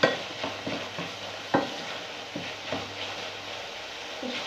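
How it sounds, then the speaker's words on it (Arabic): Chicken and onion fry in a pan with a steady sizzle, and a utensil stirs and scrapes them in irregular knocks, one sharper clack standing out partway through. "انا كيعجبني نشحر الدجاج مع البصله مزيان"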